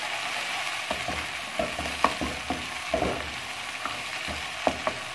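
Masala with soft tomatoes frying in a pan, a continuous sizzle broken by repeated scraping thuds of a spoon stirring, close and fairly loud with no voices.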